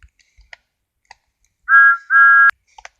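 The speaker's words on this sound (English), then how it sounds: "in Corman's Gate yard heard a whistle." A train whistle from Thomas the Tank Engine in a Roblox Thomas and Friends game gives two short, clear, steady toots close together, set among sparse faint clicks.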